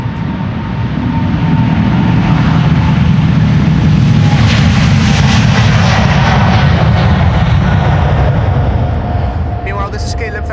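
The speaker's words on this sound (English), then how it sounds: "this is KLM Flight 705 to Rio de Janeiro" A KLM jet airliner taking off from Amsterdam Schiphol gives a loud, steady roar close by that holds throughout, with people talking underneath.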